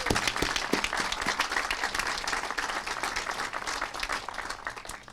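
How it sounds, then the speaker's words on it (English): A ceremony crowd applauding a conference championship baseball team at a residence hall groundbreaking, with many hands clapping in a steady, brisk patter that fades slightly at the end. "let's give them a round of applause"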